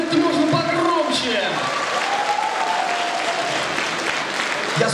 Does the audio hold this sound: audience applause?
yes